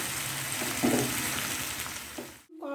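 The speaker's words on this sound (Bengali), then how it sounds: "মশলা ভালো করে কষে নিতে হবে" Spices being sautéed in oil for a cream paneer curry, a steady close sizzle and fry throughout with a few brief stirring bumps, ending in a short pause and a faint tone.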